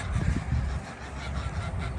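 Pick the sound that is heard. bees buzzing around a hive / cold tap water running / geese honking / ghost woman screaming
geese honking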